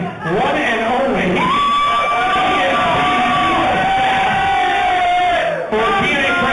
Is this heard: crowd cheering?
yes